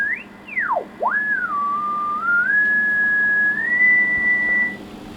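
A 144.500 MHz test signal tuned on a Kenwood TS700S receiver comes through as a clear whistle-like tone that swoops down and back up, then settles into a steady, slightly stepping pitch for several seconds over a faint low hum.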